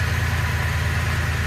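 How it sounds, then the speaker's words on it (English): A 2005 Chevy Impala with a misfiring engine running at idle: a steady low rumble with a faint uneven pulse, close by and alone. "when I revved up the engine,"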